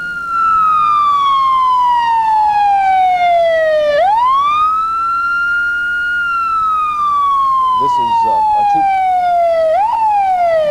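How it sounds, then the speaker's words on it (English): A loud warning siren before the implosion of the Wade Hampton Hotel in Columbia, South Carolina, wails steadily, sliding slowly down in pitch and then sweeping back up, over and over without a break. "There's a siren going off, a warning about the coming explosion."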